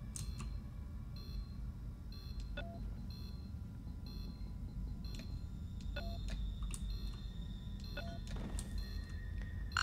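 Repeated electronic beeps and blips from a video game chirp at irregular intervals over a steady low rumbling hum.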